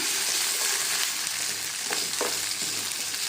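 Green chillies frying in hot oil with mustard and fenugreek seeds, a loud, dense, steady sizzle with a couple of brief spoon scrapes against the pan, heard close.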